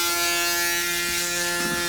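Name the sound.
Braun Series 9 Pro electric shaver shaving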